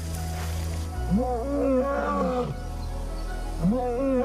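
Lions roar to mark territory, a loud, close series of deep, rising and falling calls with a pause before the next roar starts near the end.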